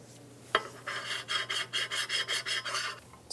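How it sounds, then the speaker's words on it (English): A rag scrubs the upper intake mating surface of a 2003-2007 Infiniti G35 after parts cleaner is applied, giving a close, rhythmic series of about ten quick rasping strokes alone over a faint hum. "Clean the mating surface on the upper intake and then hit it with a bit of parts cleaner and a clean"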